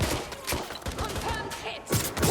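Shotgun blasts and other gunfire in a Watch Dogs: Legion firefight, several sharp loud reports in quick succession over busy game noise.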